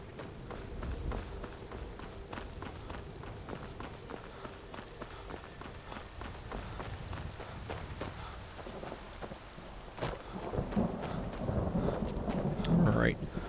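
Steady rain and rolling thunder from a storm in the Skyrim video game near Whiterun, a constant patter of drops with a louder rumbling swell toward the end, heard alone without talk.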